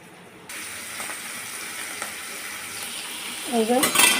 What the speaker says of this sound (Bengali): ছোট চিংড়িটা ভাজা হলে এই যে বড় চিংড়িটা পরে ভেজে নেব